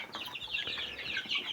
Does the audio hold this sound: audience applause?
no